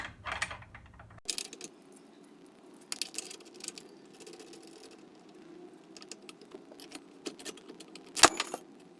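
Loose metal gears come off the PTO shaft of a Scott Bonnar Model 45 mower during teardown, giving sparse metallic clinks, clanks and jangles against quieter stretches, with one sharp clank near the end.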